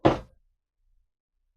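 A drawer in a 2021 Rockwood Ultra Lite camper shuts with a single short, dull knock, close by, followed by silence.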